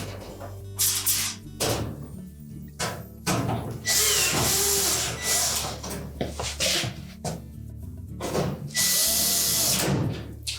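A power drill drives screws into the back panel corners of a Frigidaire range in bursts, short whirring runs with pauses and clattering handling between them, close and moderately loud.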